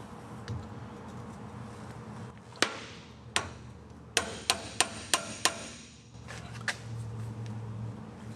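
Hammer blows on the universal joint caps of a 1999 Toyota 4Runner driveshaft at a workbench, a handful of sharp metallic strikes, close and loud, one isolated then a quick run of five, over a low shop hum.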